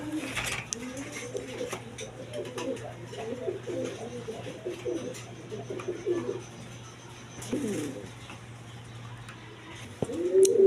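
A pair of native pigeons, a hen and a cock, coo in a loft with a steady low hum beneath them. The throaty calls come in several soft bursts across the stretch, with a louder sound right at the end.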